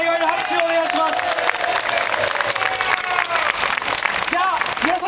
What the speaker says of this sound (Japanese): 皆さんお願いの拍手をお願いします。